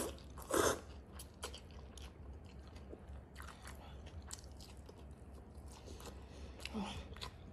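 Someone takes a crunchy bite and then chews cold sea snail noodles, with soft mastication sounds close to the microphone over a low steady background hum.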